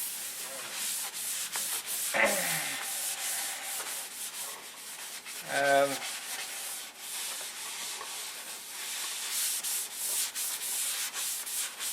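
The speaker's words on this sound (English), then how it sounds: "It's just sanding." Continuous rhythmic sanding on a P-47 aircraft before painting, a close, rasping scrub that keeps going with short back-and-forth strokes throughout, no talking.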